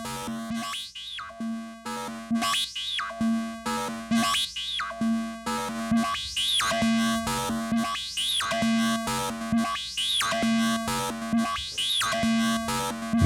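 A buzzy, distorted Korg Electribe synthesizer tone pulses in repeated notes with a steady low drone underneath, each note sweeping up in brightness before fading.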